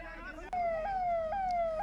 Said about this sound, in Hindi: देखिए भाई साहब, यहाँ पर फायर ब्रिगेड आ गई है